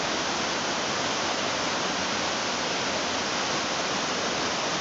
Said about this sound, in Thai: ตอนนี้เราอยู่ที่น้ำตกห้วยทรายเหลืองนะครับ